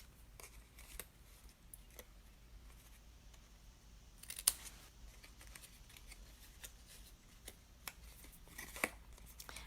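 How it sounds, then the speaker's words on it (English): Scissors snipping small wedges into small pieces of paper craft supplies, a faint scatter of light, quiet cuts with soft rustling, one or two sharper snips standing out, no voices. "I'd like you to just cut little wedges in on the small pieces"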